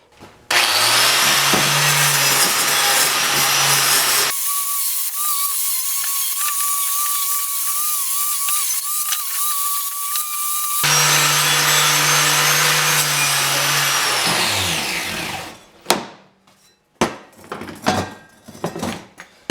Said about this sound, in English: we have to wire brush it with the grinder